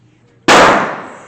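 A single loud, close gunshot at an outdoor shooting range, a sharp crack that cuts in abruptly and then trails off in a rumbling decay, heard alone without speech.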